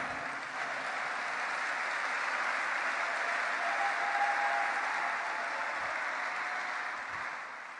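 Sustained applause and cheering from a church congregation, a dense steady roar of clapping that holds at full strength throughout with no talk over it.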